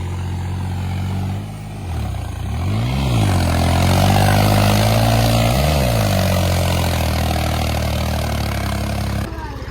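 A tractor engine laboring through deep mud with its belly dragging, a loud close drone that swells and dips in pitch as it strains, with a voice speaking over it.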